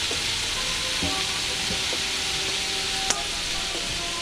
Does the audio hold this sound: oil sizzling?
yes